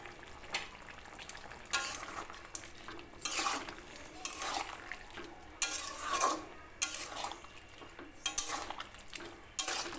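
Fried prawns being stirred into cooked elephant foot yam stalks in a pan, with a soft continuous sizzle and repeated scraping sweeps of a spatula against the metal, coming in close, uneven strokes and no talking.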